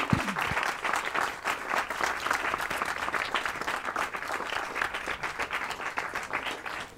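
Audience applause at a farewell event for a puppeteer in Banfield, dense steady clapping filling the whole stretch after a brief opening thump.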